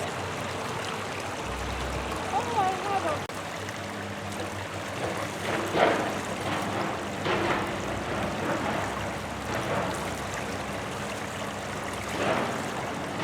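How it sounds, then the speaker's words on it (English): Stream water flowing downstream into a net while sediment is kicked up and rocks are scrubbed, a steady rushing and trickling wash with occasional splashy bursts, fairly soft and continuous. "the water is flowing downstream into the net from where she's kicking up the sediment"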